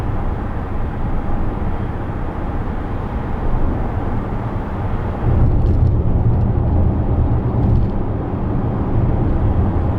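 Steady broadband road and wind rumble fills the cabin of a 2025 Volkswagen Atlas cruising at 80 km/h. The low drone grows louder about halfway through and then holds.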